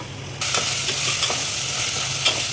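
Mutton and gongura leaves are stirred in a hot pan, giving a steady close sizzle with repeated scraping strokes of a spoon against the metal. No one talks over it.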